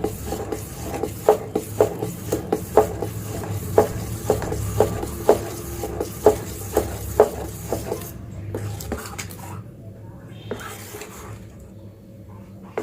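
Orange cake batter is stirred by hand with cherries and tutti frutti folded in, a spoon scraping and knocking against the bowl in a steady rhythm of soft rasps and taps before the stirring trails off.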